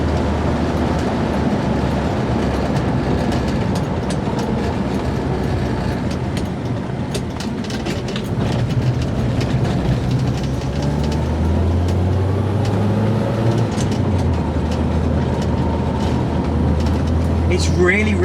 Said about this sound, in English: with the 85 horsepower of this in quite a light car, it really motors along